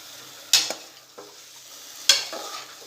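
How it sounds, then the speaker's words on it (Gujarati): A spoon scrapes and clanks twice in a pan while Surti papdi vegetable dish with garlic is stirred and mixed, with a faint sizzle beneath, close and fairly quiet. "બધું સરસ મિક્સ કરી લઈશું।"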